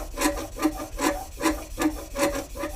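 A steel plane blade is pressed lightly against a spinning grinding wheel, giving a rhythmic rasping grind that swells and fades about every half second as the blade is rocked across the wheel, close up with no talking.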